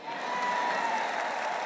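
An audience at a church conference applauds, a dense continuous wash of clapping from a crowd that holds steady and loud throughout, with no talking over it.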